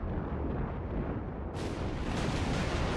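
Heavy shell impacts and explosions from a World of Warships naval battle make a dense, booming roar of blasts that swells louder and brighter about halfway through, with no voices.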